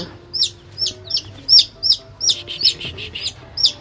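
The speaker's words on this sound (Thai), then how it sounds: "นี่ก็คือลูกไก่ที่ได้สองตัวนะคะ" Rhode Island Red chicks hatched in an egg incubator give repeated high, shrill peeps, about ten quick chirps in an irregular rhythm, close and clear over a low hum.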